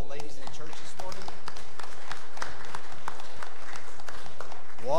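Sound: applause in church

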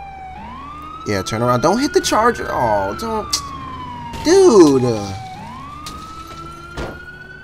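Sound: ambulance siren in GTA 4 video game

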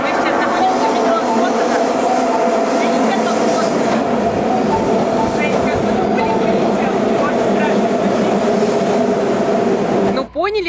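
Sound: subway train running

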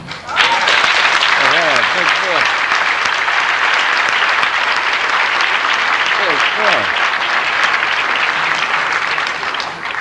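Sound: audience applause at a jazz award concert

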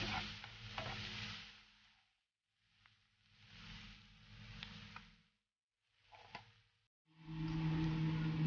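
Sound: chicken curry frying in a pan

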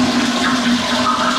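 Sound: toilet flushing

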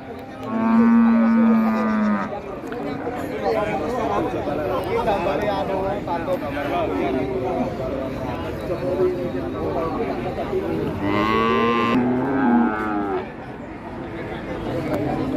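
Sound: cattle mooing at a livestock market

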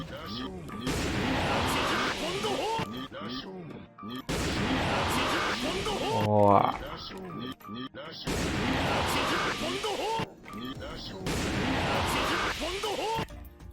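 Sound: gunfire in a video game

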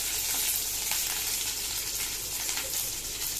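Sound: curry leaves frying in oil in a kadai

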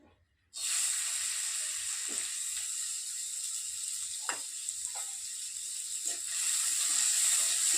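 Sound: arhar dal frying in hot oil

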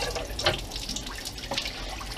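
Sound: water running into a pot to cover the chicken

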